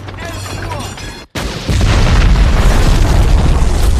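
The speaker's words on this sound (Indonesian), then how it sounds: "Kapten Miller terhuyung karena ledakan juga" Explosion from a World War II battle scene in Saving Private Ryan: a short dark gap, then a heavy boom with a broad, rumbling roar that stays loud and dense to the end, with no talk.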